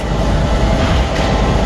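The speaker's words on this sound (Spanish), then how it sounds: "Miren la locomotora cómo funcionaba." La Trochita, the narrow-gauge Patagonian steam train, runs with a steady loud rumble and clatter of its locomotive and cars, continuous and close throughout.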